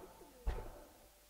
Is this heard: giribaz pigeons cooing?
yes